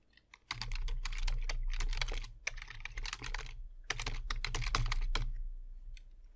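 Rapid keystrokes clatter on a computer keyboard while text is entered in the vi editor, in close, crisp bursts separated by a brief pause midway, with no voices.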